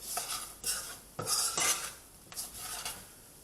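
Spices frying gently in a pan, mostly heard as intermittent metal scrapes and clinks of a utensil stirring against the pan over a faint sizzle, close and without talk.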